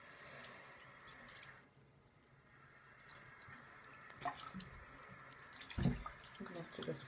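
Running water swirls and splashes in a sink while makeup brushes are rinsed, a soft continuous flow that briefly dips and then returns with louder sloshing bursts near the end.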